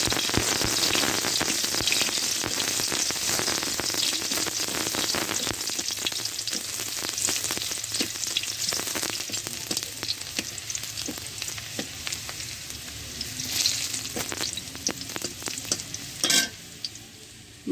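Chopped onion frying in oil for a parshe fish curry with potato and greens, a dense, continuous close sizzle with scattered crackles and pops throughout and no voices.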